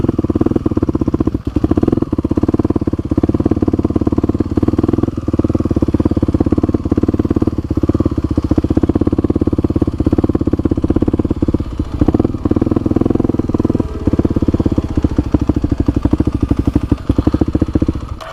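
A motorcycle engine idles steadily and close during a DMV motorcycle skills test, a loud continuous low chugging rumble with rapid even pulses and no pauses.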